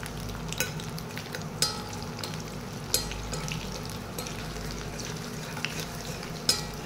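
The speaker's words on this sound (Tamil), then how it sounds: "நல்லா இது இப்போ கருகிற அளவுக்கு வதங்கட்டும்" About seven onions fry in a pan until nearly browned, making a constant soft sizzle with periodic sharp scrapes and clinks from a stirring utensil, close by and with no talking.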